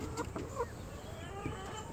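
A chicken clucks faintly in a few short, separate calls over a steady background hiss, heard at a distance.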